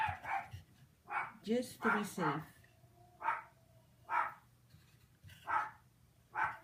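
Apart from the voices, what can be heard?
dog barking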